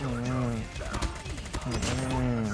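Rapid bursts of HBRa3 rifle fire in Call of Duty: Mobile, loud crackling shots mixed with game effects, with someone talking excitedly over the gunfire.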